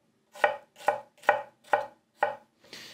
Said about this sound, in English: once I finish destroying this onion.